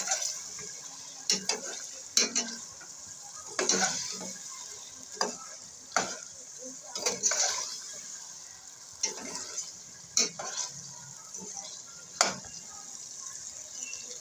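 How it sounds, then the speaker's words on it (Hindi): Tomato masala with chicken, for a turnip and spinach dish, sizzles softly in a pan while a spatula scrapes and stirs it in a dozen or so sharp strokes at irregular intervals, close and clear, with no talk. "थोड़ा सा हम और भूनेंगे"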